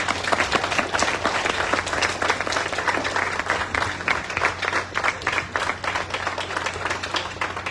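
An audience at a school's centenary celebration breaks into sustained applause, many hands clapping at a steady, lively pace over a constant low electrical hum.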